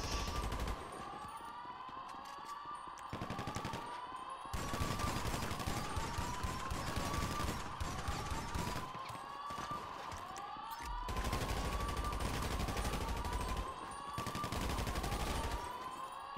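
Video-game gunfire from a shootout in Grand Theft Auto 5 Online: repeated bursts of rapid automatic shots in several waves, with siren-like tones in the mix.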